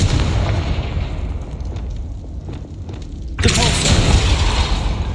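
A Confringo blasting spell goes off in a Harry Potter video game as a loud, rumbling explosive burst, with dense roaring blast noise that swells sharply partway through and stays heavy to the end.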